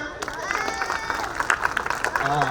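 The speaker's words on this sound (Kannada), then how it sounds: "ಸೊ ಎಲ್ಲ ಚೀಫ್ ಗೆಸ್ಟ್ಗೂ ಒಂದು ಚಪ್ಪಾಳೆ ತಟ್ಟೋಣ." An audience at a school annual day celebration claps for the chief guests, a busy patter of applause from a crowd with a voice talking over it.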